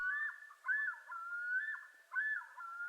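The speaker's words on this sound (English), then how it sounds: "Another haunting call, the yodel, is made by males who use it to claim territory." A male bird's territorial yodel: wavering, whistled phrases that rise and fall, repeated about four times in a steady rhythm. The calls are clear and moderately distant, with no other sounds around them.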